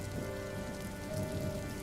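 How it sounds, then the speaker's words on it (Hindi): Heavy rain falling at night, a dense, steady patter drumming on surfaces with no break, close and fairly loud, with no voices. "बरसात थमने का नाम ही नहीं ले रही थी।"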